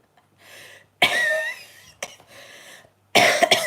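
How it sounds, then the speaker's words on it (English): A person coughs with an itchy throat, with three separate bursts of harsh coughing, close and loud, and short quiet gaps between them. "I don't know if this cough that I'm having, if meat will help"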